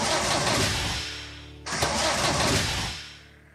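Big blue tractor engine in a Swiss German children's cartoon cranking and starting twice, a loud, close rumbling roar that dips briefly between the two attempts before fading.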